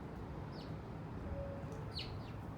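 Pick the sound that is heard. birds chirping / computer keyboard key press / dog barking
birds chirping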